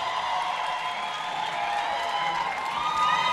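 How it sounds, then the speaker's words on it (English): Crowd at an Orange Farm youth event main stage cheers and claps in a steady, dense wash of voices and applause, with shouts rising near the end. "Come on, round of applause."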